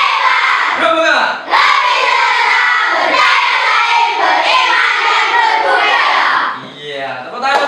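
A classroom group of children shout a rhythmic cheer chant in unison, loud and energetic, with brief pauses between bursts of voices.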